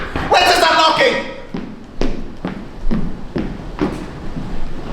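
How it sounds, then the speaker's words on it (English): Series of loud knocks on a door during a stage performance of Macbeth, about six evenly spaced thuds after an opening burst of dramatic vocal sound, close and resonant. "Whence is that knocking?"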